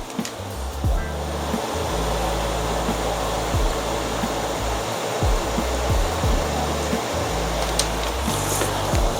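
Beef stir-fry sizzles and simmers in a thickening sauce, a steady close hiss of bubbling with no talk over it.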